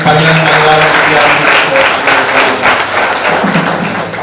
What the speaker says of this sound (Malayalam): വലിയൊരു കയ്യടി